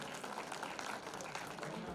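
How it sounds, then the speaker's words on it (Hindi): Audience applause at a Dhakad community talent award ceremony in Jhalawar, a dense, steady patter of many hands clapping at moderate distance for about two seconds. "जोरदार तालियां करें सुमित के लिए"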